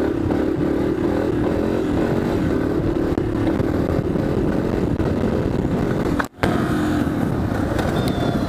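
A motorcycle ridden while attempting wheelies, its engine droning steadily and loud up close with wind and road noise, briefly dropping out for a moment before resuming.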